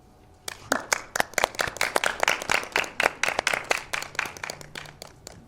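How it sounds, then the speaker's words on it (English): A few people clap sharply and unevenly for a speaker named Georgia Vanderville at a talk, the clapping building into a short, scattered round of applause in a fairly small room. "Please, let's give Georgia Vanderville a warm round of applause."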